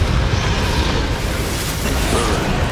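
The Confringo explosive spell in Hogwarts Legacy, a dense sustained roar of fiery blasts during a duel, loud and even throughout with no speech on top.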